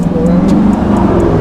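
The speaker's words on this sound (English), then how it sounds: "Oh, a little rev. Little rev it up." A BMW engine is briefly revved nearby in a campus parking area, a loud, close rising growl lasting about a second and a half with a faint repeating high chirp in the background.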